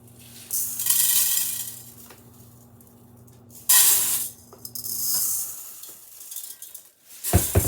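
Tap water gushes in bursts to rinse jasmine rice, loud hissing streams starting and stopping, with a brief clatter of a pot near the end.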